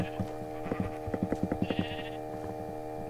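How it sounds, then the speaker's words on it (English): Sheep in the video game Minecraft bleat in a rapid run of short, evenly spaced calls through the middle, close and clear over a steady game background tone. "Oh wait, there's more sheep. There's more sheep."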